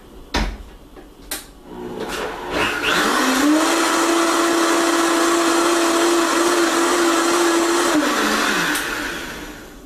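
A countertop blender whirs for several seconds, blending vanilla almond milk, rising to a steady loud motor drone and then winding down, preceded by a few sharp clunks as it is set up.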